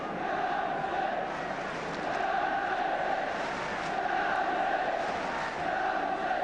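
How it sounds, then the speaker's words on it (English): A steady crowd roars and chants through a packed football stadium at a 1976 Manchester United versus Tottenham Hotspur league match, a loud, continuous wall of voices with gentle swells and no breaks. "the crowd trying to do their part in bringing about the first goal"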